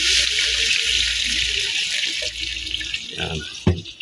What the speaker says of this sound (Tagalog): Lagyan natin ang tubig mga idol.